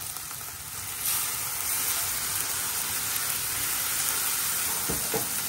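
Masala of tomato paste, ginger and garlic with coriander and turmeric powder fries in a pan for rajma, giving a steady hiss that swells after the first second, followed by a couple of faint clicks near the end.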